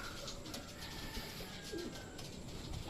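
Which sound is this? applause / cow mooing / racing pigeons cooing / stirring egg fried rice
racing pigeons cooing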